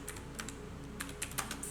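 Rapid, light keystrokes on a computer keyboard as a note is typed during a mobile app game, a quick uneven run of close clicks with no talking.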